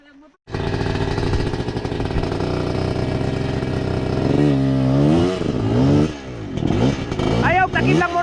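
A motorcycle engine climbs a steep uphill, starting abruptly and holding a loud strained drone that rises and falls in pitch with revving and gear changes, close by, with some clatter and brief voices near the end.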